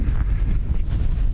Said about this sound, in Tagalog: Medyo malamig ngayon. At mahangin.